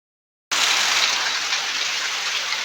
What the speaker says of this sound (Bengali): দেখো আমাদের এখানে সাংঘাতিক বৃষ্টি হচ্ছে